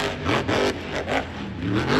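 A monster truck engine at a Monster Jam arena event revs hard after a restart, with loud, continuous surging roars that rise and fall over a steady mechanical drone, with no talk over it.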